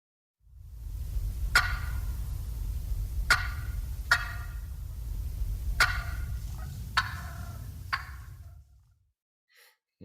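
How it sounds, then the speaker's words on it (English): A recording of turkey yelps plays over low rumbling noise, with several short, sharp bursts of calls spaced a second or two apart, then silence. "listen to the turkeys do it first"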